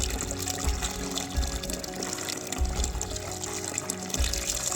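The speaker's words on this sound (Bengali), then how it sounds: "ভালোভাবে হাতের সাহায্যে ভালোভাবে কচলে ধুয়ে নিতে হবে" Soaked black gram lentils are rubbed and washed by hand in water, giving a steady sloshing, trickling swirl with soft low thumps at intervals, close by and without speech.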